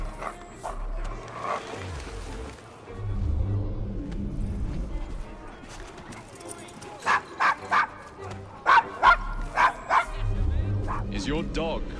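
Dog barking in Assassin's Creed Syndicate, set in a rough Victorian London district: repeated sharp barks and yips near the end, with whimpering and game dialogue voices talking over the ambience.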